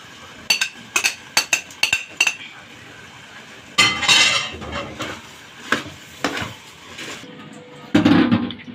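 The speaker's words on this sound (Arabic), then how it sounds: "انا بحب اشوح الرز بتاع المحشي يا جماعه، ما بحطوش الا لما اشوحه" A spoon scrapes and clinks against a pot while rice for mahshi is stirred and sautéed, in quick bursts of metallic clatter separated by short pauses.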